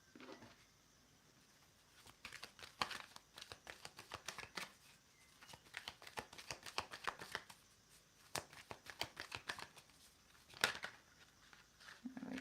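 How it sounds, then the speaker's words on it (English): A deck of tarot cards is shuffled by hand in a quiet room. Repeated riffling rattles and soft patters come in uneven bursts, close to the microphone, with no talking. "I'm going to start shuffling."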